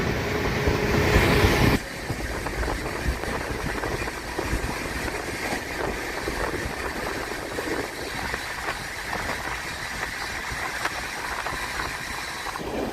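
Inside a passenger train travelling at speed between Kadapa and Kurnool, a steady rumbling roar with faint rhythmic rattling fills the carriage, louder for the first two seconds and then settling into a continuous even drone.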